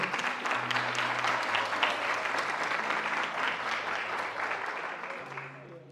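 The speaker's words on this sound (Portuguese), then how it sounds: "Pode aplaudir o Senhor." A church congregation applauds steadily and loudly throughout, with a sustained organ or keyboard chord held underneath the clapping.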